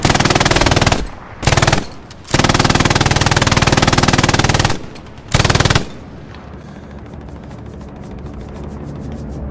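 An MG42 machine gun firing in the Second World War game Hell Let Loose, very loud, fast, buzzing bursts broken by brief gaps, then a softer trailing stretch of distant, scattered fire.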